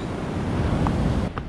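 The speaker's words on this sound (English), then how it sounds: "Swell is pretty bloody big." Big ocean swell breaking against a rocky ledge, a loud, continuous rushing surf roar with heavy wind noise on the microphone, close and steady before cutting off abruptly.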